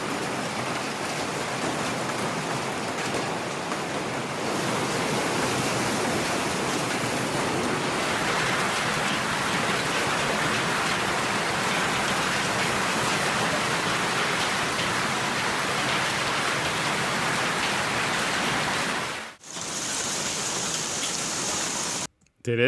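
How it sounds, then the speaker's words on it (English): Heavy hail or rain pounds a Brisbane CBD train station during a storm, a loud dense steady roar of impacts that continues almost throughout, briefly cutting out near the end. "Brisbane hail wreaks havoc on a train station in the CBD."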